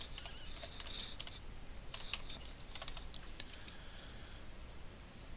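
Keys clatter faintly on a computer keyboard as an airodump command is entered in BackTrack 5 Linux: sparse, quick clusters of soft clicks over a steady background hiss.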